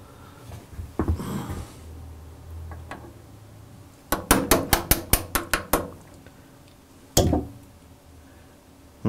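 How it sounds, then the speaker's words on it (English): A small hammer taps out a quick run of about ten sharp, evenly spaced knocks, then strikes once more after a pause, amid quieter clatter and handling noise. "I got the little hammer here just in case."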